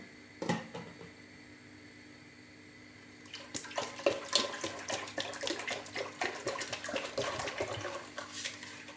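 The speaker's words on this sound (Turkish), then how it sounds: "Daha sonra sütlerimi boşaltıyorum." Milk poured into a pot for güllaç, a steady liquid splashing and gurgling that starts after a brief knock and continues to the end, close by with no talking.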